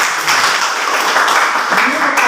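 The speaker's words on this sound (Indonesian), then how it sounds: "Oke, tepuk tangan dulu." An audience claps in applause, a steady wash of hand claps across the whole stretch, with voices faintly underneath.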